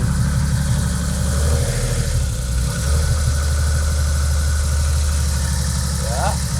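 A car engine runs at a steady idle after a coolant top-up and bleeding, loud and close with a constant low throbbing hum that stays even throughout.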